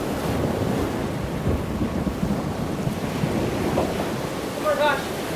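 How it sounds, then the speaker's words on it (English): Sudden storm at sea: a steady broadband roar of wind and crashing waves fills the whole stretch, loud and continuous, with faint swells and no clear speech. "it seemed like the storm came out of nowhere"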